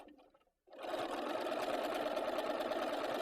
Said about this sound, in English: And then you can just stitch along with the stabilizer underneath, and no stretching will happen.